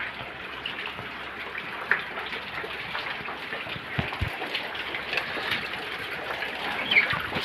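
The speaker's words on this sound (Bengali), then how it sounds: "বাইরে জল যাচ্ছে দেখো।" Rainwater from a heavy overnight downpour flowing through a flooded home courtyard, a steady close rushing and gurgling wash with faint bird calls and occasional splashes.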